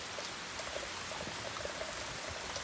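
Water from a garden watering setup sprinkles steadily over plants on an overcast morning, a continuous patter of fine droplets like light rain, moderately close and without pause.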